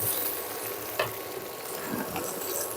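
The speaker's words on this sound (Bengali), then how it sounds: "একটু দুই মিনিট আমরা সুন্দর করে বড়িটাকে আগে রান্না করে নেবো" Boroi (jujube) pickle cooking in a pan, stirred steadily, with a continuous soft sizzle and scraping, a sharper clink of the spoon near one second and another around two, close by with no talking.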